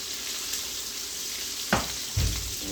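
Beef short ribs searing in a hot pan give a steady, hissing sizzle, broken by two short bumps and clatters as the meat is shifted.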